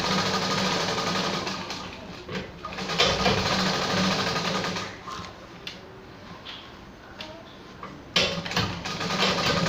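A sewing machine runs steadily through a double stitch on a readymade dress with stones attached, a continuous close mechanical whir with brief pauses and restarts, set against faint background bird cooing.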